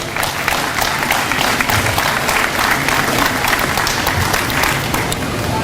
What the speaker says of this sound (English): give them a big round of applause too